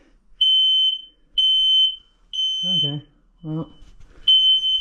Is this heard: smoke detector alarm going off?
yes